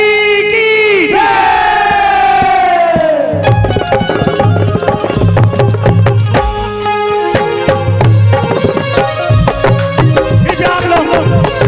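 A crowd at a devotional Manas gathering roars a chant to Bajrang Bali, loud and massed over a sustained tone from a harmonium and percussion.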